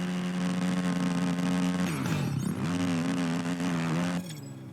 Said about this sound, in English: He's literally bogging down so much.